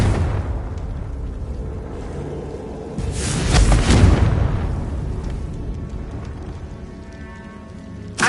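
A Confringo blasting spell detonates in Hogwarts Legacy, a loud rumbling burst swelling in the middle and fading into a crackling tail over a steady game ambience.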